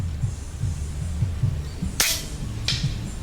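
An air rifle with a 4.5 mm Alfa barrel, a Humer X, shoots at a metal target 102 meters away. A single sharp crack is followed by a fainter second snap over a low, steady background rumble.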